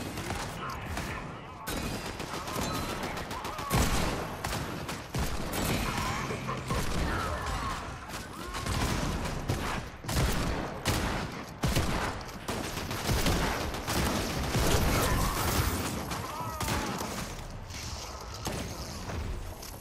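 Rapid bursts of gunfire from an online shooter match ring out nearly continuously, loud and close, with mechanical clicks and creaks mixed in and occasional talk underneath.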